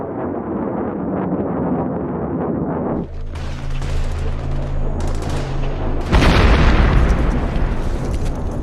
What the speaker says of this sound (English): A US AC-130 gunship strafes the mountain ridge.